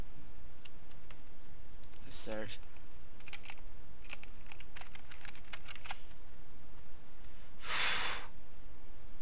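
Bursts of computer keyboard typing, scattered clicky keystrokes in short runs with pauses between them, close and fairly quiet, plus a couple of louder breathy noises.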